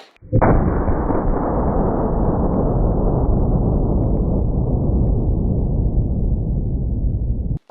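.500 Magnum revolver shot into tomato paste: one sudden, very loud blast right at the start, followed by a long dense roar and rumble that slowly fades over several seconds, with no voices.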